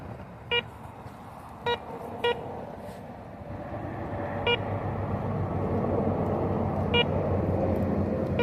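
A metal detector sweeping outdoors gives several short, sharp beeps, isolated and irregularly spaced, a few close together early and two later, over a steady low background rumble.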